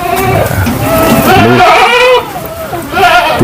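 Goats bleating on a goat farm, several close, loud harmonic calls overlapping in quick succession with a brief lull before another bleat at the end.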